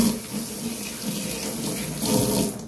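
Water runs steadily from a tap into a sink while someone rinses off during a shave, making a close continuous splashing stream that swells slightly near the end, with no talking.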